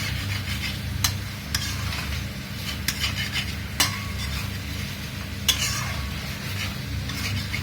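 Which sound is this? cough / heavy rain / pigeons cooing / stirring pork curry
stirring pork curry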